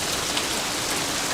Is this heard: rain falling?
yes